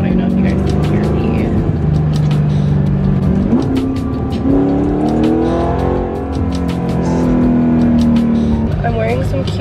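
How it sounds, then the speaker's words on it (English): A loud car engine drones steadily through a drive, its pitch rising and falling with shifts in speed, filling the whole stretch at close range. "my car is really loud, so I don't know if you guys can hear me"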